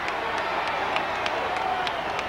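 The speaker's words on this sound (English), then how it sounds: "That screaming you hear is directed at Buddy Rogers, who likes nothing better than to draw the yells and the ire of the crowd" A golden-age pro wrestling crowd roars and yells at Buddy Rogers in a continuous loud din, with sharp claps cutting through.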